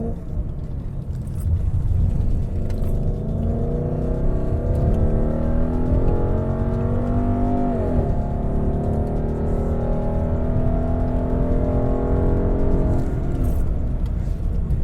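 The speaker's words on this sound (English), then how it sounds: "The full fat 5-liter V8 Mustang GT." A Ford Mustang GT with a 5-liter V8 and Borla aftermarket exhaust, revving up and down repeatedly close by, deep rumbling idle between loud rising and falling throttle blips.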